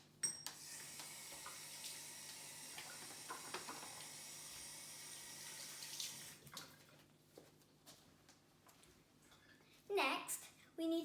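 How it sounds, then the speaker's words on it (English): Running tap water splashes steadily in a kitchen sink while hands are washed, close by, with a voice speaking over it and a clatter near the end. "we have to wash our hands so we don't get any sicknesses"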